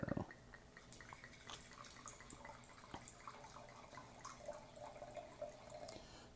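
Trader Joe's Charles Shaw Merlot poured into a glass, a soft, faint liquid trickle with small splashing drips over several seconds, no talking.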